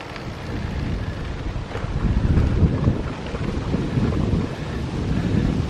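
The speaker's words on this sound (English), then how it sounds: "with this wind blowing in my face all the time" Wind blasts across the microphone while travelling outdoors in France, a loud, constant low roar and buffeting that swells and eases without pause.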